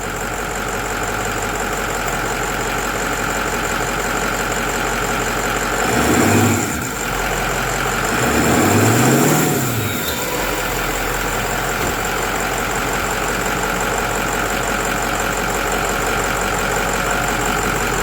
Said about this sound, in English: I'm gonna rev it up and see what it does.